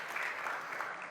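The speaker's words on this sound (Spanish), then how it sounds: "denle un aplauso al que no voy a predicar yo" A church congregation applauds during a Spanish-language service, about a second of soft, steady clapping from the room.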